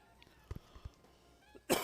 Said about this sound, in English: Oh, God, I had to cough so bad.